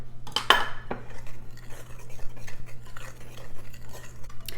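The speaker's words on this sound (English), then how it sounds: "mix those dry ingredients together" Dry biscuit ingredients with salt are stirred in a bowl using a metal utensil, with a sharp clink near the start and then steady scraping and tapping against the bowl.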